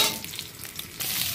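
Potatoes fry in hot mustard oil for a pumpkin and potato vegetable dish, giving a steady, close, loud sizzle with light stirring scrapes throughout and no talking.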